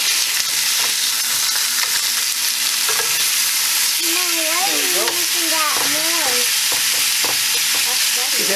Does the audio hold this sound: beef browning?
yes